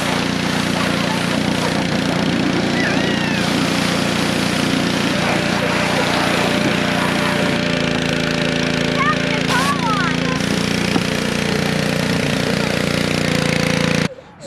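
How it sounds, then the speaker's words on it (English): A steady, loud engine drone with a hissing spray runs continuously throughout, with no pauses, cutting off abruptly at the end, as a pressure washer cleans a John Deere 325 lawnmower. "we're cleaning off the lawnmower with the power washer."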